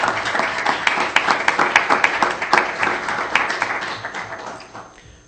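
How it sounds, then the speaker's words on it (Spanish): Audience at a national security conference in Mexico applauding a speaker's introduction, a lively burst of many clapping hands with distinct sharp claps that gradually die away. "Un fuerte aplauso, por favor, para Juan Francisco Torres Landa."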